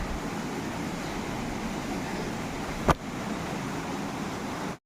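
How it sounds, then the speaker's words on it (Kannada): Water rushes steadily in a stream beneath a bridge between plantations near a lake, a continuous broad outdoor wash with one brief knock partway through and no talk. "ನೀರು ಹರಿತಾ ಇದೆ"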